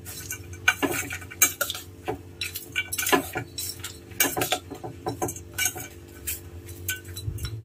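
A metal spoon mixes lemon rice in a steel vessel, irregular close clinks and scrapes in uneven bursts against the pot, with quieter gaps between strokes.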